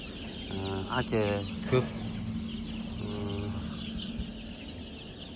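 Young chicks in a poultry shed cheep and peep in the background while someone talks over them, fairly close, with a couple of louder calls near the start.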